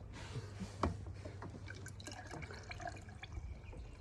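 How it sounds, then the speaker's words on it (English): Gasoline spooned by hand into the fuel tank of a 1979 GMC Caballero, giving soft, faint drips and small bubbling trickles at close range over a steady low hum. "I sit in this teeny little chair and I like spoon feed it gas"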